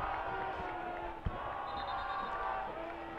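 Sacramento Republic FC fans, flag-waving supporters group in the stands, roar in a sustained crowd din at a soccer match against Harrisburg City Islanders, loud and continuous with a commentator speaking over it.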